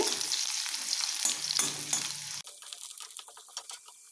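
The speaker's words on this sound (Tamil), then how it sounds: "இப்போது பொடியாக கட் பண்ண பூண்டு சேர்த்திடுறேன்." Finely chopped garlic sizzles in hot oil in a pan for paneer fried rice, a loud steady frying hiss that is stirred and then settles into lighter crackling.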